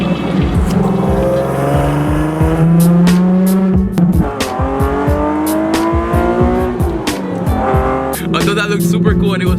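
Nissan 370Z and Ford Mustang GT racing together, loud engines revving up and down through shifting pitches with tire squeal, sustained and close, under a sporty driving mix with occasional voice.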